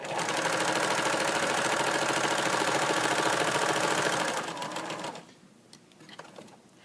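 A sewing machine stitches in a fast, steady mechanical rhythm, close and loud, then stops abruptly, leaving a quiet room with faint clicks.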